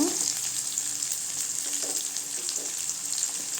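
Chana dal and garlic sizzle in a pan for ridge gourd peel chutney, a bright, steady frying hiss close by with faint stirring scrapes and no voices.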